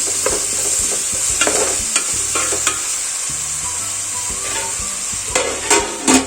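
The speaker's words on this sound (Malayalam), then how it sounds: "ഇതൊന്ന് ഇളക്കി കൊടുക്കാം." Sliced onions frying in a pan for a coconut-milk chicken curry, giving a steady loud sizzle while a utensil stirs them with intermittent scraping knocks, close and with no talking.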